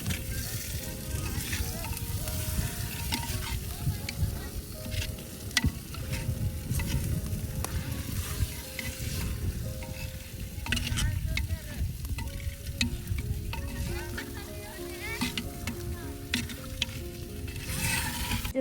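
Village chicken stirred into an onion-coconut gravy in a clay pot over a wood fire, a continuous close sizzle with repeated scraping strokes of the spoon, no voices.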